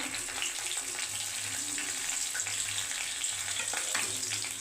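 Dried red chilli, panch phoron and green chillies spit and crackle in hot oil, a steady close sizzle with scattered pops and a faint low hum underneath, no voices.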